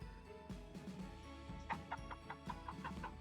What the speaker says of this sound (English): there you have a Clucking Cup chicken